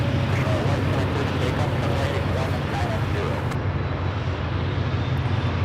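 A Frontier Airlines Airbus A320neo jet airliner at Charlotte Douglas International Airport gives off a loud, continuous roar with deep rumble, steady throughout and easing slightly toward the end.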